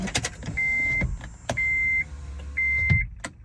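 A car's electric power window motor whirs down in three separate steady runs, each about half a second long, with clicks and clunks between them close by inside the vehicle.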